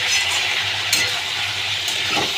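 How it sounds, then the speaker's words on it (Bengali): Bottle gourd curry with hilsa fish head and turmeric being stirred in a pan, a steady sizzle with light scraping and a few clinks of the spoon, close and continuous. "হলুদের গুঁড়ো অল্প করে দিলাম, দিয়ে এবারে এটাকে একটু নাড়িয়ে দিতে হবে।"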